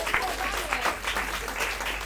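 An audience claps in a warm round of applause at an Indian Cancer Society celebration event, a steady, moderately loud wash of many hands with a low hum running underneath throughout.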